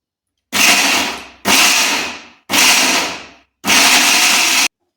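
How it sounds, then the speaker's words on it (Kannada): A kitchen mixer grinder powders jaggery in four loud bursts of whirring motor, each running about a second with short silent gaps between, close and with no talk. "ಬೆಲ್ಲ ಸ್ವಲ್ಪ ಮಿಕ್ಸಿನಲ್ಲಿ ಪೌಡ್ರ್ ಮಾಡ್ಕೋಬೇಕು"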